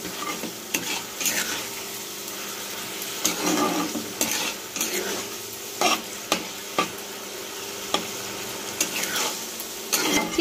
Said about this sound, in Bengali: চিকেন আর মাশরুমটা কষাতে কষাতে তেলটা আলাদা হয়ে গেছে।